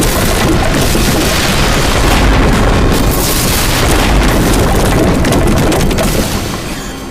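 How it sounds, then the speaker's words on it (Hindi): A loud, sustained bomb explosion of rumbling and crackling debris, dense and overpowering, fading slightly at the end. "और ये हुआ धमाका।"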